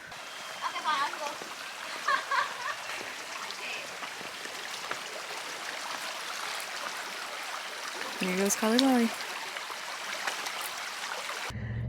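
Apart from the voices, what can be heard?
river stream water flowing at a crossing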